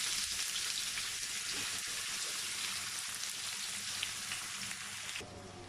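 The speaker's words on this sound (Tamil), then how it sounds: "இப்போ முதல்ல வெங்காயத்தை வந்து ஃப்ரை பண்ணிக்கலாம்." Onions frying in sunflower oil for North Indian masala biryani give a dense, even, rain-like sizzle throughout, faint in level and easing slightly near the end, with no voices.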